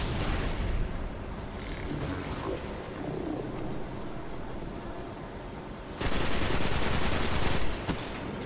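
Gunfire in the Destiny shooter game, with bursts of shots crackling over busy combat noise and a louder, sustained barrage in the final seconds.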